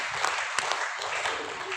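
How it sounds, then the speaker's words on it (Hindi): An audience at a business product seminar claps in a dense, brief burst of applause that holds a steady moderate level throughout, with a voice faintly mixed in. "ताली होनी चाहिए, नहीं होनी चाहिए सर?"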